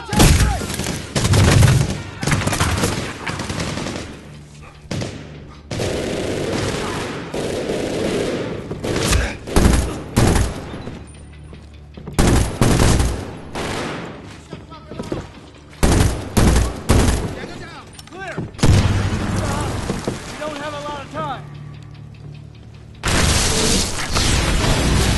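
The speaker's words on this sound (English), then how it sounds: "I'm shooting this metal" Rapid bursts of gunfire and explosive booms from the shooter video game Medal of Honor Warfighter, loud and dense throughout, with automatic fire, single shots and heavy blasts in quick succession.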